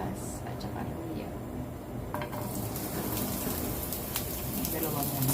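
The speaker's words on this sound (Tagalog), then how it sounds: "So maglagay na tayo ng mantika guys. Igisa natin ang ating bawang, sibuyas, at saka luya." Garlic, onion and ginger sautéing in oil for a tilapia with tomato dish, a steady close sizzle with occasional utensil clinks, and a voice speaking over it.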